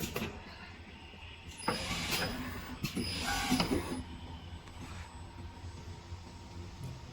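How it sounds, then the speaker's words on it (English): A two-color silk screen printer working on plastic tubes runs with a quiet mechanical hum, broken by a few louder clunking, whirring cycles in the middle of its printing motion. "Now printing."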